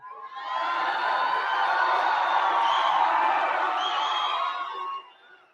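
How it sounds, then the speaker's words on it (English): A large crowd at a Trump political rally in a big afternoon venue cheers and shouts in a loud, sustained roar that swells for about five seconds and then fades. "It's a very energetic crowd."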